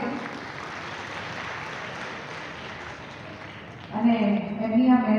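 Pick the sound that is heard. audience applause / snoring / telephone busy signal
audience applause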